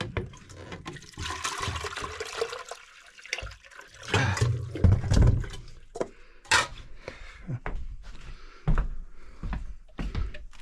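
Water runs and splashes while potatoes are washed off at a camp in Newfoundland, an irregular gushing with clattering and bumping, close and fairly loud.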